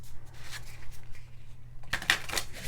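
Tarot cards are shuffled in a short riffle, with a quiet rustle first and then a louder, crisp burst of flapping card edges near the end.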